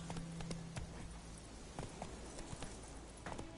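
Roach the horse in The Witcher 3 trots along with rhythmic clip-clopping hooves, moderately close and steady, over faint game ambience.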